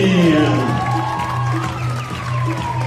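Crowd noise and applause fill a basketball arena during the pre-game team presentation of Belfius Mons-Hainaut at a FIBA Europe Cup game, a steady, loud wash with an announcer's voice over it.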